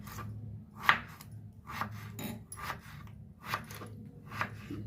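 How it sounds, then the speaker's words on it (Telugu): Knife chopping potatoes into small pieces on a board, a steady series of crisp cuts roughly every second over a low background hum. "బంగాళాదుంపలు చిన్న ముక్కలుగా కట్ చేయాలండి"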